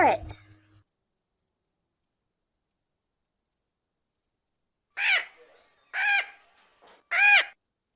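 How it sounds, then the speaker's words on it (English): A parrot gives three short, harsh squawks in quick succession after a brief cry at the start, clear and close against silence. "parrot,"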